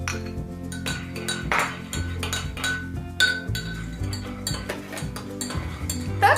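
A spoon clinks repeatedly against a glass while stirring egg yolk into a homemade cough mixture, bright rhythmic taps and scrapes close up, with no talking.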